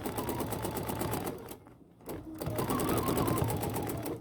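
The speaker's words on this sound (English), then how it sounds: "So I'm going to stitch, and I'm going to consciously stop so that I get a second little stitch in that corner." A BERNINA sewing machine with a stitch regulator stitches at a steady, rapid rhythm close by, stops briefly for about half a second, then resumes stitching.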